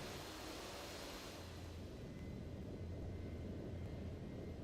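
Steady, even roar of an aircraft sitting on runway 16 left in a flight simulator, a constant broadband engine drone with a low hum and no talk.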